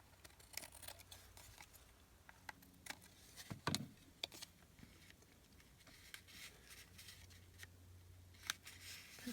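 Scissors cutting around large paper tags, a series of sparse, close snips and crisp paper rustles, quiet and irregular with one sharper crunch midway.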